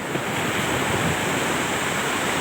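Continuous, loud wash of sea waves breaking on the beach at Hua Hin at sunrise, a steady roar of surf with no distinct breaks or voices.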